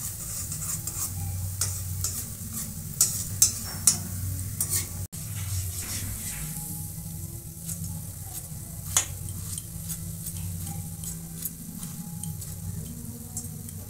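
Crispy potato bhujia fries in a pan, a steady sizzle with gentle intermittent stirring scrapes and a few sharp utensil clicks against the pan, close and continuous with no voices.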